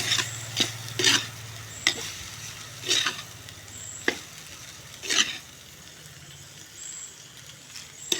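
Onion rice with salt stirred in a pan, a spoon scraping and tapping in irregular strokes over a soft steady sizzle, close and alone.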